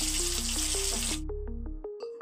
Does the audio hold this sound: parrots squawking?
no